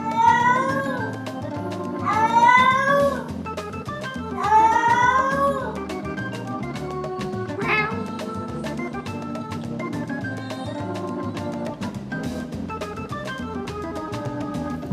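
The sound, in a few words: cats meowing and fighting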